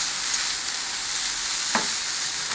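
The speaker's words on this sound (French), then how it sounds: "Donc là on va cuire les oignons et on va attendre qu'ils deviennent dorés" Onions and garlic fry in a pan with a dense, steady sizzle, close and even throughout, broken by one brief clink partway through, with no voices.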